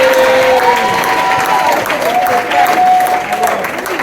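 A church congregation applauds loudly and continuously, a dense wash of clapping with some cheering voices mixed through and a sustained tone weaving across the crowd noise throughout.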